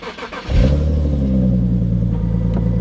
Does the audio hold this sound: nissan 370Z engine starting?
yes